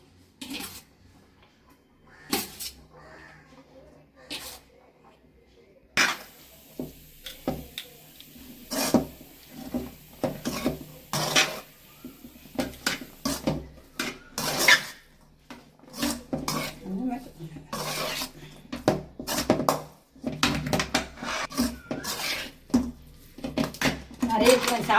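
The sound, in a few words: stirring rice into tomato thokku in a pan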